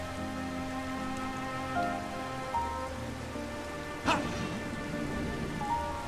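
Rain pours steadily in the game Stranger of Paradise: Final Fantasy Origin, a constant wash under a soft musical hum, with a sharp crack of thunder near the middle and a few low rumbles.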